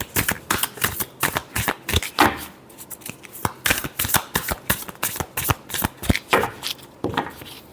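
Tarot cards are shuffled by hand in a steady series of crisp riffling and flicking bursts, close and fairly loud, with no talking.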